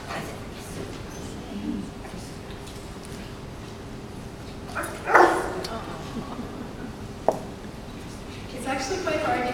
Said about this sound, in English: they need the dog to bark to gain attention